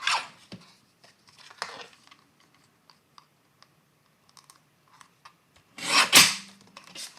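Card stock for a fern-themed card being trimmed by about a quarter inch: soft scattered rasping and tapping, with a louder burst of cutting near the end, close and quiet, no talk.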